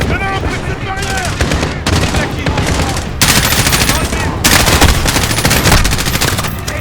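Sustained bursts of automatic gunfire in the Call of Duty Modern Warfare campaign, loud and dense, with rapid overlapping shots and no pauses throughout.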